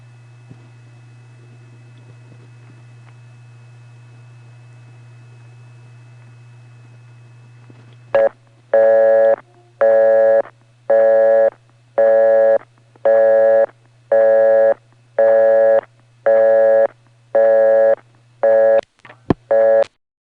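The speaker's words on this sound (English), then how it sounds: "The fact that it just goes to a busy signal after 26 seconds" A 1977 XY step-by-step telephone exchange with a TSD unit on a 2600 Hz controlled trunk: a low steady hum runs for about eight seconds, then a loud, regular busy signal pulses on and off about ten times, ending in a click.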